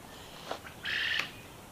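Coturnix quail in a pen give a few short, faint calls, then one brighter sustained call rises briefly above quiet background noise.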